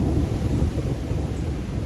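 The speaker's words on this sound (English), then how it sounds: "there's the thunder." Deep rumbling thunder rolls from an approaching storm over Lake Superior at Porcupine Mountains State Park, a steady loud low roar heard outdoors from a campsite.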